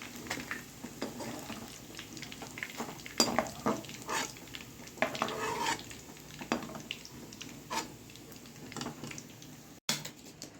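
Bay leaf and whole garam masala frying in hot oil in a pot for mutton kacchi biryani, a soft sizzle under irregular stirring clinks and scrapes of a spoon against metal.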